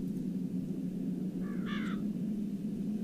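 A single raven's raspy caw, a short harsh call in a dark, quiet setting in the video game Darkness Within, heard alone over a low steady hum with no voices.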